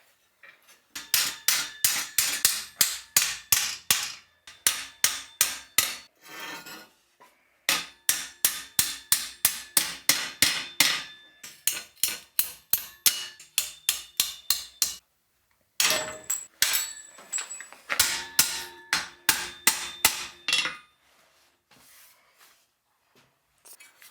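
Three-inch nails are hammered through green wood to fix an antique drawknife handle: bursts of sharp, ringing metallic blows in quick rhythmic runs, separated by short pauses, loud and close.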